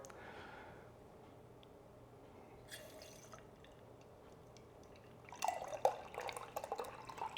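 Homebrewed maple butter tart ale pours from a small keg pressurised by a CO2 cartridge: a faint, steady background gives way in the last two seconds to a closer, louder burst of splashing and spurting liquid.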